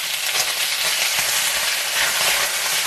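Steak sears in a cast iron pan over medium heat while a spatula shifts it around, giving a loud, steady, close sizzle that stays constant throughout.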